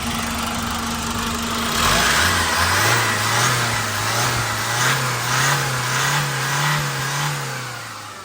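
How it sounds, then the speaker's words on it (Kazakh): The engine of a 2021–2022 Hyundai Porter 2 truck runs close by, its steady idle rising into a revving surge and then settling into a slightly wavering, even hum with no voices over it. "мотор жүрүшү"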